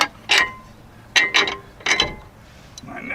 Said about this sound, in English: I'm gonna take this bolt out.